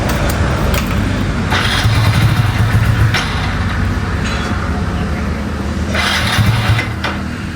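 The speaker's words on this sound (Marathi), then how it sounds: "गाडी चालू करून पाहू गाडी पळते का उडते पाहू आपण पहिले" A motorcycle engine starts and keeps running with a loud, steady rumble throughout.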